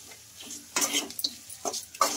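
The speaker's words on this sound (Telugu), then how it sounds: "ఈ ఆలు వేసుకున్న తర్వాత బాగా కలిపేసుకుందామండి." Mashed boiled potatoes stirred into a hot tempering for a potato curry, giving a few scraping, stirring strokes against the pan in short bursts with quiet pauses between them.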